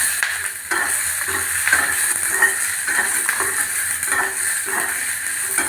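Chopped garlic with green chillies frying in oil in a pan while making tomato and fenugreek leaf chutney, a steady close sizzle with occasional stirring scrapes and light clinks of a utensil, no voices.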